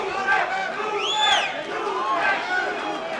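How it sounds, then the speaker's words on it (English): Crowd at a club boxing match chanting "Lupe" for fighter Guadalupe Arroyo, rhythmic rising voices swelling and falling in waves under loud arena cheering. "I'm hearing chants of Lupe"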